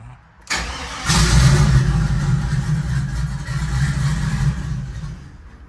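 A turbocharged Chevrolet Silverado engine fitted with 1000cc injectors cranks and fires up on its first start, then settles into a loud, steady, slightly uneven idle close by.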